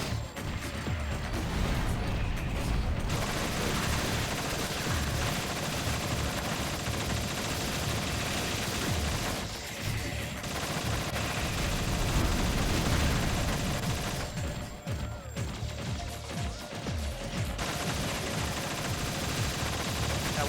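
Enemy gunfire in ShadowGrounds aimed at a slow mech, a relentless loud barrage of rapid shots and explosions with brief lulls, heavy and continuous for most of the stretch.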